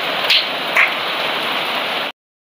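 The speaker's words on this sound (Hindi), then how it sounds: "ये रिमझिम वाला बारिश है।" Light drizzling monsoon rain pattering steadily on surfaces, a continuous close hiss with a couple of brief louder drips, then cutting off abruptly.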